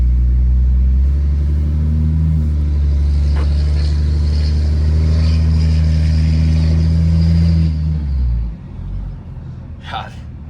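A truck with a 4th gen Cummins diesel swap driving, a deep steady diesel drone and rumble from inside the cab that eases off near the end, with a short higher whine at the close.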